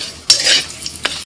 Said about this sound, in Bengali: তেলের মধ্যে ফোড়নে দিচ্ছি তেজপাতা, এলাচ, দারচিনি, লবঙ্গ